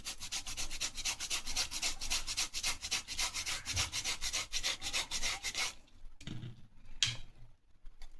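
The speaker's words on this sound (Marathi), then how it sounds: "ते आपण किसणीने किसून घेऊ." Boiled potatoes are rubbed across a hand grater in quick, even rasping strokes, a soft rhythmic scraping that runs for several seconds before trailing off into a few scattered scrapes and taps.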